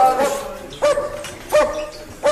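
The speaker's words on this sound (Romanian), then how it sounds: "Să ne ia la ochi câinii." A dog barks four times at a steady rhythm, loud and close, each bark short and sharp with little else around it.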